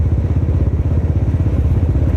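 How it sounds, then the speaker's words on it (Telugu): A Royal Enfield Classic 350 Stealth Black BS6 (2020) runs at idle, a loud, close, steady low thumping pulse with rhythmic mechanical beats and no talk. "And this is the most selling motor cycle of the royal Enfield."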